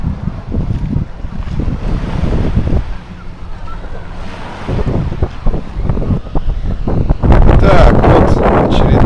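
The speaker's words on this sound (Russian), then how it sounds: "С самого утра уже дует ветер. Такой достаточно сильный, я бы сказал." Strong gusty wind at sea near Nha Trang, Vietnam, buffeting the microphone in loud, uneven rumbles with waves washing beneath, ending in a harsher blast.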